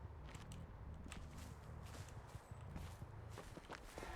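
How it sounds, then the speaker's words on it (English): Survivor footsteps in the Dead by Daylight video game, a steady run of soft treads over a low, busy game backdrop, moderately close with no talk. "I heard her footsteps"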